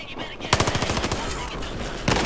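Rapid automatic gunfire from a video game weapon, a quick burst of close, punchy shots in fast rhythm that then drops away, with another short shot near the end.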